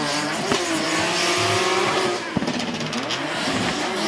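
BMW Z4 drift car sliding at the Ebisu Circuit West Course in a Formula Drift Japan event, its engine roaring loudly throughout as tires squeal, a sharp thump near the middle briefly breaking the sustained drone.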